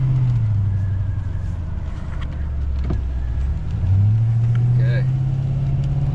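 A Ford Powerstroke diesel pickup with its muffler deleted rumbles close by while towing, a loud deep drone that dips and then climbs again as the engine revs, with someone speaking briefly over it.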